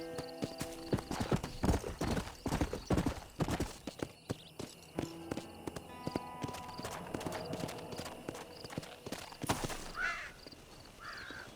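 Horse hooves clip-clop at a quick galloping pace in the Red Dead Redemption video game, rhythmic and close, with occasional whinnies and bird caws mixed into the game's sound.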